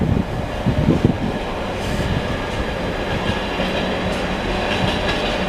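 A Class 91 and a Class 66 Freightliner train pass at Stevenage on the East Coast Main Line, a loud, steady rolling rumble with clattering wheels and brief bursts near the start.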